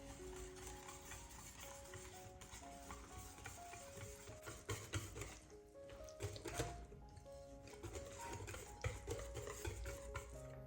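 A spoon stirs a mixture of spinach dish batter after corn flour is added, giving faint, steady scraping and clinking against the pot over several seconds, with background hum.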